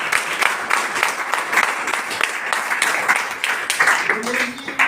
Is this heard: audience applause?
yes